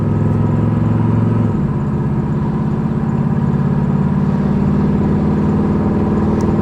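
An LS-swapped Cutlass Supreme with a level 2 shift kit drones steadily from inside the cabin in fourth gear, and its engine note drops abruptly as the transmission locks up, then holds a smooth, even hum.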